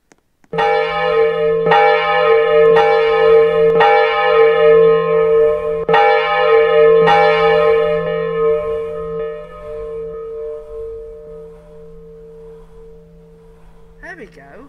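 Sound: church bells ringing in Roblox video game

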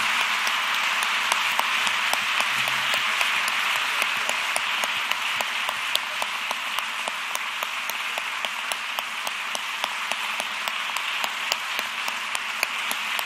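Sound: audience giving a round of applause

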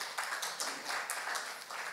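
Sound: church congregation clapping

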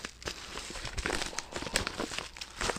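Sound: book being put into a padded envelope

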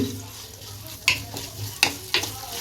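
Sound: ginger garlic paste frying with onions, stirred

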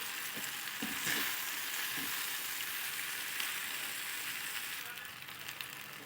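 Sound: stirring boiled pasta with chilli powder in a pan

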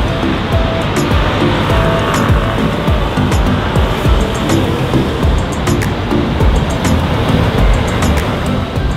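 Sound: traffic near a bridge at sunset

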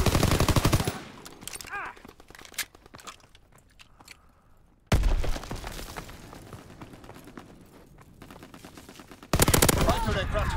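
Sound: aircraft strafing run gunfire in the video game Call of Duty WWII

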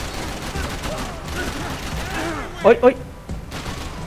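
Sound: gunfire in the video game Max Payne 3

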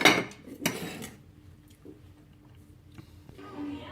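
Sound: dishes and utensils clinking while plating Thai shrimp papaya salad

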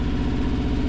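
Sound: boat engine running

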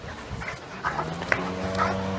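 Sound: eight-week-old St. Bernard puppy barking and whimpering

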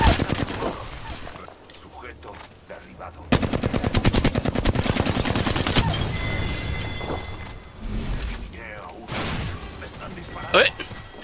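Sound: gunfire in the video game Puni Legends

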